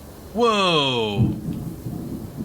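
Thunder rumbles low and deep just outside a window, rolling on for over a second right after a voice cries out in a rising exclamation.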